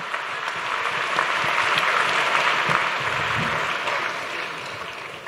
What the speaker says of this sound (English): Another round of applause for the boys.